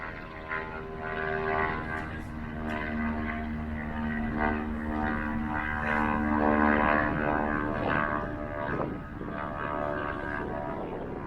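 Light propeller airplane engine idling at a small airport, a steady droning hum with layered tonal harmonics that rises slightly in the middle, heard at moderate distance with faint background clicks.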